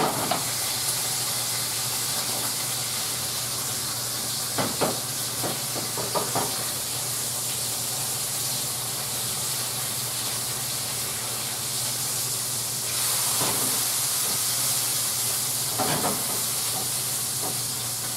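Shrimp cook in a pan with a continuous steady sizzle and hiss, broken by a few brief knocks and stirring clatters.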